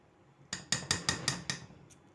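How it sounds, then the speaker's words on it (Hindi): A spoon clinks against a pot while stirring a cooling mango ice cream mixture: six quick, bright metallic taps in an even rhythm, close and fairly quiet, with no voices. "ठंडा करते वक्त हम मुसलसल इसमें चम्मच हिलाते रहेंगे"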